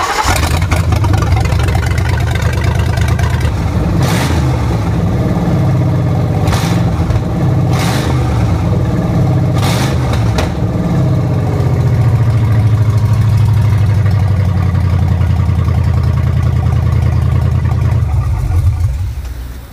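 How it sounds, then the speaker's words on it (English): A Ford Crown Victoria Police Interceptor V8, freshly back together after a cylinder head swap, cranks over in several short bursts, then catches and settles into a steady, loud idle that rumbles on close by. "So the engine is running now"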